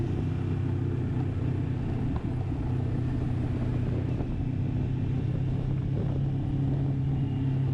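A motorbike rolls slowly through car traffic, its engine a steady low rumble with a mild throb and faint surrounding vehicle noise, continuous and close with no clear revving, and no one speaking.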